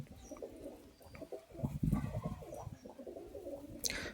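Giribaz pigeons coo in soft, repeated low murmurs at close range, a steady throaty burbling with a brief brighter rustle near the end.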